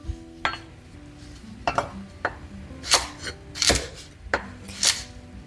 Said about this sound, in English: But these fatter ones, I cut them in half. And now I will slice them.